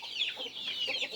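A farm hen clucks softly and steadily while her small chicks peep in rapid, high-pitched calls close by.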